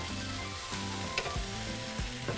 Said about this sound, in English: we're going to be sauteing for about 5 minutes